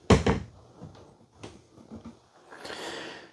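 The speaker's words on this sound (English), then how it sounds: "But you'll notice you have soft closed doors." A soft-close cabinet door in a 2023 Forest River Sierra Luxury 391FLRB fifth wheel swings shut with a soft thud, followed by quieter knocks and a faint hiss as it eases closed, with no talking.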